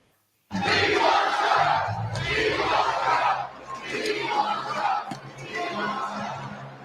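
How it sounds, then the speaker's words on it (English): A large political rally crowd in Manchester, New Hampshire roars and chants in loud, surging waves, with shouting voices rising and falling continuously. "let's take a live listen right now as the crowd is getting lively here in Manchester"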